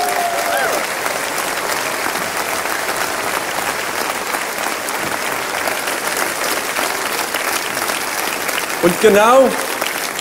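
An audience at a concert in Heidelberg bursts into loud, dense applause that holds steady throughout, with a voice speaking over it near the end.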